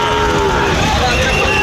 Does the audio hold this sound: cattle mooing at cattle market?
yes